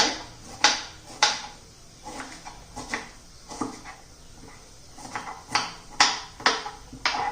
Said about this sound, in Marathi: आता मी सर्व भेंड्या अशा चिरून घेते